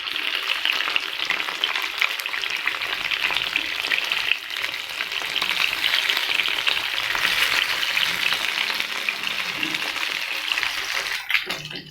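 Masala-coated fish pieces fry in hot oil in a steady, dense crackle that runs loud and unbroken from start to finish, with a faint soft tap near the end.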